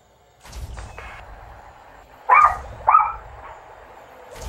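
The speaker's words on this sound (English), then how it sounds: "Fucking dog." A dog barks nearby, two sharp, loud barks about half a second apart, preceded by a softer yip and some low background rumble.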